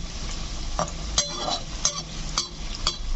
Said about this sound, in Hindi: इसी तरीके से इनको भी हम गोल्डन फ्राई कर लेंगे